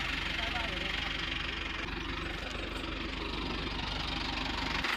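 A tractor engine idling nearby with a steady low, rhythmic chugging throb that continues throughout, while people talk over it.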